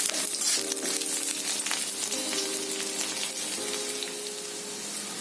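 Ginger and garlic cloves sautéing in a tablespoon of hot oil, a steady soft sizzle and crackle with faint metallic clinks from the pan, no talking.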